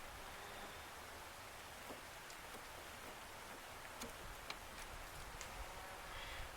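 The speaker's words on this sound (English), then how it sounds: "It's trying to rain on me." Steady light rain falls outdoors beside a 1981 Datsun 210, a soft continuous hiss with a few faint drips and ticks, fairly quiet and with no voices.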